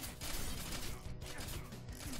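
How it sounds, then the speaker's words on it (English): Explosions from traps in the Dungeon Warfare tower defense game, in the Crumble Zone level: a dense, continuous crashing and rumbling burst that fills the whole moment at steady loudness, with no talking. "Oh, that explosion was a good one."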